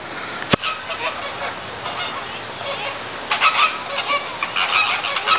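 Flamingos calling at the Philadelphia Zoo, a busy flock of honking, goose-like calls that runs steadily throughout with louder bursts near the end and one sharp click early on.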